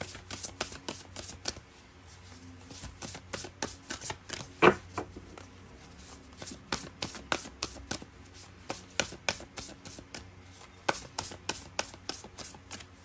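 A deck of tarot cards being shuffled by hand during a reading, with repeated crisp riffling and soft rubbing taps in an irregular rhythm, close and fairly quiet, with no talking.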